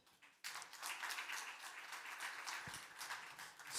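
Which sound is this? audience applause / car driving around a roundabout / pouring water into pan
audience applause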